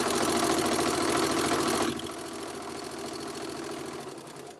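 A sewing machine stitches a quilt-as-you-go block with a fast, even mechanical whir that runs loud for about two seconds, then continues at a lower level.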